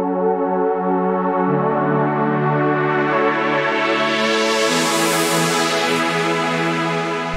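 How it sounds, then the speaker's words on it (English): A synth pad sits beneath the guitar in a remix, holding long sustained chords that change a few times and swell brighter toward the end, steady and loud with no talking. "Underneath this guitar there is a pad which sounds like this."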